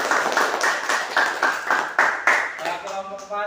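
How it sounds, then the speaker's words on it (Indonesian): Classroom applause for a student group, a burst of quick, fairly close hand clapping from a small class lasting a few seconds and tapering off at the end. "Kasih aplaus untuk kelompok 4."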